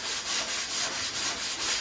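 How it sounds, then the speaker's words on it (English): Bodywork on a 1965 Ford Mustang is sanded by hand in steady back-and-forth strokes, each rasp lasting about a third of a second. The scraping is close and continuous, with no talking. "We're going to probably be sanding this thing for another month."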